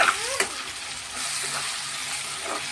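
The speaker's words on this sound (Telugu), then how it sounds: "టమాటా ముక్కలు కూడా వేసేసాను." Tomato pieces frying in a pan for tomato rice and chicken curry, giving a steady close sizzle with a few faint stirring scrapes and no voices.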